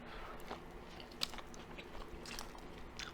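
A soggy, heated Subway sandwich is bitten and chewed close to the mic, with quiet soft crunches and one sharper bite, no talking.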